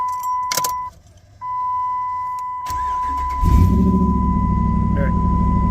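A Dodge Ram HEMI 1500 pickup with a misfire fault cranks and fires up after a door chime and key jingle, then settles into a loud, steady idle close to the microphone.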